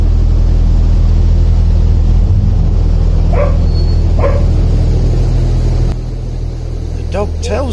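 A dog on a canal boat in the Wigan lock flight gives a few short barks over the loud, constant rumble of the boat's engine, with a quick cluster of barks toward the end.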